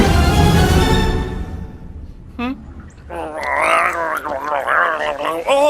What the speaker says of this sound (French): le bruit du Bragettor ressemble à un bruit de gargouillement de ventre